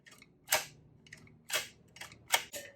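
A caulking gun's trigger squeezed repeatedly, giving four or five sharp, separate clicks about a second apart, close and fairly loud against a quiet room with no talk.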